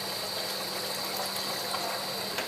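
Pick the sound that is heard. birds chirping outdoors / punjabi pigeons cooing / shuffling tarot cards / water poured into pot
water poured into pot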